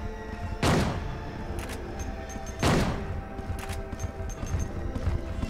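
Two loud, close gunshots ring out about two seconds apart in Silent Hill 2, a shotgun firing shells, each blast sharp and booming. Lighter clanks and thumps follow in between.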